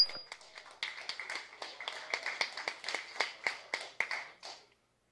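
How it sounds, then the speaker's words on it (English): A small audience claps for several seconds, a light patter of hands that builds slightly and then stops. "Please give a round of applause to Mark Pauley."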